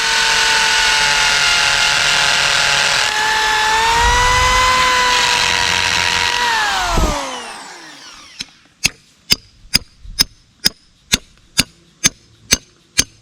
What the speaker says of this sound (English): I'm going to drill a hole right here and set a pin